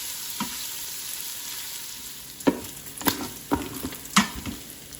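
Bacon sizzles and fries in an Instant Pot, a steady close crackle with occasional louder pops and spatters, no voices.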